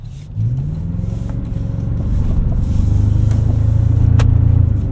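A 2024 Toyota Tacoma TRD Pro hybrid pickup's engine hums low and builds steadily as it accelerates, heard from inside the cabin, smooth and fairly quiet.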